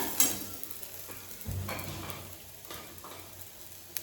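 Onion sizzles in a pan with salt for a Konkan banana flower vegetable, a steady moderate fry broken by a few stirring scrapes and clinks, with no voices.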